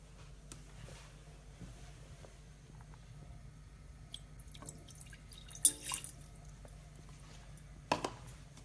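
Water poured into a pan to be brought to the boil for a sugar glaze in a pastry kitchen. It comes through as quiet, sparse drips and trickles, with a couple of sharper splashes near the end and no talking.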